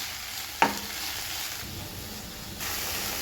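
Mint, coriander and fenugreek leaves stirred in a hot frying pan for tomato chutney, with a steady close sizzle and hiss, one sharp scrape of the utensil early on, and the frying swelling louder near the end.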